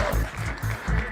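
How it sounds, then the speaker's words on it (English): Recorded applause sound effect played after a call for a hand, a short steady burst of crowd clapping, moderately loud and heard alone. "Gotta click back here to get the claps"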